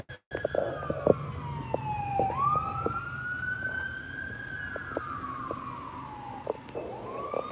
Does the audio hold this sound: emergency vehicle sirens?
yes